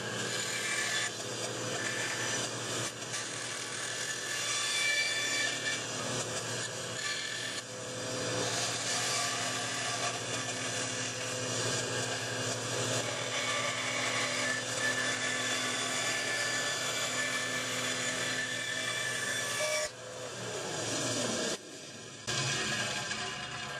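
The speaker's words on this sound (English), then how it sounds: "I wanted to explain that first before I start the bandsaw, because it is quite loud." A bandsaw cuts a wooden blank for a whittling chip knife, making a loud, continuous close whine that runs unbroken for about twenty seconds before briefly dropping near the end.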